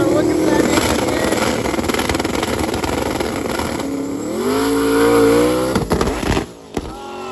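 A drag racing car's engine at a Midwest drags event roars loud and close, its pitch climbing steadily as it accelerates, then cuts off abruptly near the end.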